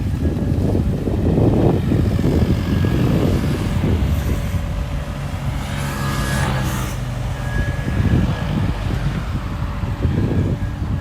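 A Sany SY35U mini excavator runs with a steady, loud low diesel rumble that never lets up, with some wind buffeting the microphone.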